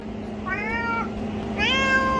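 A cat gives two clear, close meows, one short and one longer and rising, over a steady low background hum.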